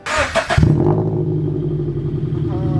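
Scion FR-S with stock axle-back exhaust starts up with a clattering crank and quick revs, then settles into a loud, steady, deep idle.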